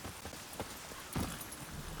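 Horse hooves trot in The Witcher 3 video game, a quiet, steady clip-clop rhythm of several hoofbeats over a low background hum.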